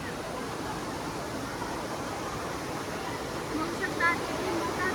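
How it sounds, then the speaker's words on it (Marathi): Pahine waterfall near Nashik roars as a steady, dense rush of falling water, unbroken across the whole stretch, with faint crowd voices blending into the wash. "बघू शकता किती मोठा धबधबा आहे पहिला. हा पैण्याचा वॉटरफॉल"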